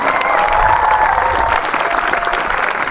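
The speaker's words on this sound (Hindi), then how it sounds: "जोरदार तालियां" Loud applause from a crowd, dense sustained clapping that carries on steadily for a few seconds.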